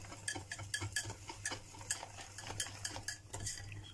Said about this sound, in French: On vient bien mélanger.